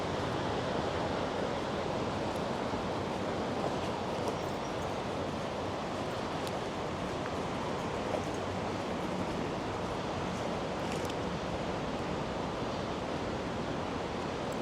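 Fast-flowing floodwater in a park after Storm Bert, waded through on foot; a steady, broadband rushing wash fills the whole stretch, close and even, with no speech.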